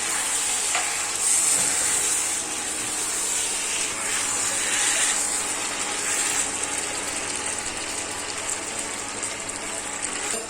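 Sliced pork with pepper is stirred in a hot pan, a loud continuous sizzle and hiss with scraping stir strokes rising and falling throughout.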